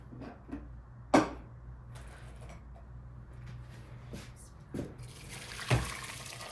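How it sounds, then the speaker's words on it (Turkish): Water pours into a pot for a celery dish in a few short splashes and trickles, with quiet gaps between them. The sounds are close and sporadic, and nobody talks. "Şimdi suyumuzu koyalım."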